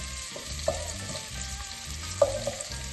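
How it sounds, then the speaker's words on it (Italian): Half a red onion in small pieces fries in oil in a pan with a constant crackling sizzle, punctuated by a few sharp spoon taps against the pan; no one speaks. "Aggiungo all'olio mezza cipolla a pezzettini."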